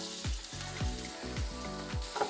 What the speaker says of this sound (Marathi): आता यामध्ये घालूया चिरलेला कांदा